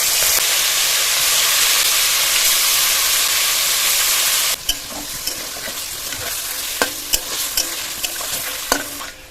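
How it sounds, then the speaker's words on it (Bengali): Chicken pieces fry in hot oil for butter chicken with a loud, dense, steady sizzle that drops suddenly halfway through, leaving a quieter crackle punctuated by sharp pops and spatters. "তেল গরম হয়ে গেছে, তেলের মধ্যে চিকেনগুলো দিয়ে দেবো।"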